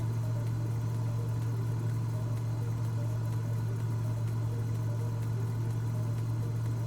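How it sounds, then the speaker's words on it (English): Piston aircraft engine in a flight simulator running near idle at reduced throttle, a steady low droning hum with constant vibration and no voices. "It almost sounds like the engine's almost at idle right now."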